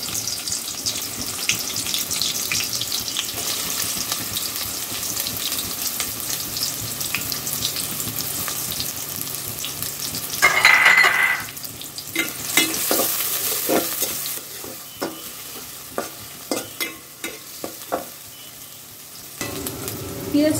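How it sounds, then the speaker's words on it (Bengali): Onions fry with a constant close hiss in a pan for a chicken vegetable dish, then a burst of louder sizzling gives way to rhythmic spatula scrapes and taps as they are stirred. "পেঁয়াজটাকে আমাদের ভালো করে ভেজে নিতে হবে, যাতে পেঁয়াজের কালার বাদামি রঙের হয়।"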